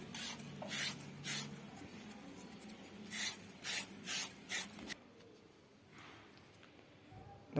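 Pepper being ground into powder on a traditional stone grinding slab for a pepper brinjal dish, heard as repeated rough scraping and rubbing strokes in uneven bursts, close and moderately loud, fading quieter toward the end.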